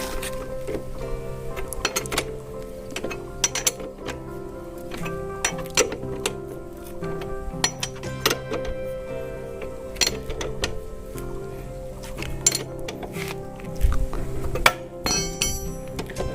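Nuts on a Pulsar motorcycle's drive chain adjuster are tightened with hand tools, producing scattered metallic clicks, clinks and ratchet-like ticks at close range, irregular and fairly quiet throughout.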